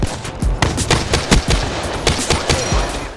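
MX Garand rifle fire in Black Ops 3 rings out close and loud as a rapid string of about a dozen sharp shots, with echoing gunfire blending between them.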